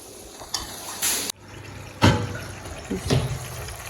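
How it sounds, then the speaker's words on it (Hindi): Water poured into a cooking pot of rajma and potatoes over fried masala, heard as several short splashing gushes and trickles in separate bursts, close and fairly loud. "राजमा आलू डाल दिया और ये डाल दिया मैंने पानी इसमें।"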